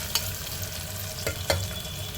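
Cauliflower and beans frying in a pan for a Telugu rice dish, a steady low sizzle with a few scraping stirs of a spoon against the pan.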